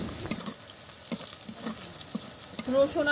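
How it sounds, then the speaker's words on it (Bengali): Crushed garlic and black cumin (kalonji) frying in hot mustard oil as mustard greens are cooked, with a steady close sizzle broken by scattered clicks of stirring. "রসুন আর কালো জিরে ভালো করে ভাজা হয়ে গেছে"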